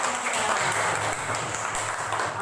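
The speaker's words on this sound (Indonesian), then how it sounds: "berikan tepuk tangan yang meriah" A classroom group claps during a teacher's lesson, a dense, even patter of many hands sustained for a couple of seconds with little talk.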